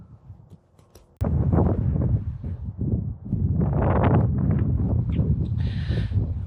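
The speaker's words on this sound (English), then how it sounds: "Wind's cutting right down the river, making it very awkward." Wind gusting across an exposed river bank swim, a sudden loud rumbling buffet after a quiet start that stays strong and roaring close against the microphone, with faint rustling over it.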